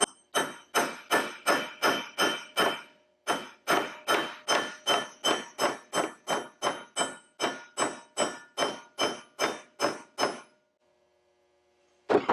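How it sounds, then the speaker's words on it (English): A hammer drives a chisel into a split aircraft nose fork bushing with about thirty sharp metallic strikes in quick, even runs, one short break between groups, loud and close. "I'm going to position this chisel right on the very edge of that split."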